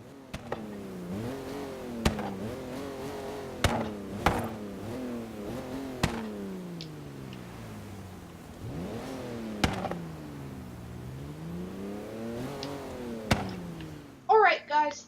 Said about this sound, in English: that's the sound of the car